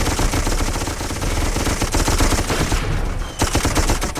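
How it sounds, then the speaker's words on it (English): Maxim machine gun fire in the video game Darkest of Days, a loud, dense stream of rapid automatic bursts that keeps going the whole time with only a short dip near the end. "And why do they have Maxim guns?"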